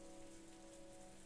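Steady rain falls on a rose garden, a soft, continuous hiss and patter under a low sustained musical drone, faint and unbroken, with no voices.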